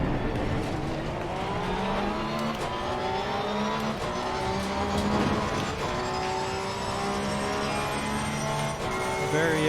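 Porsche race car in the Assetto Corsa Competizione video game during an endurance race at Monza: a loud, steady engine roar with rising and falling revs through gear changes, plus occasional tire noise and other cars nearby.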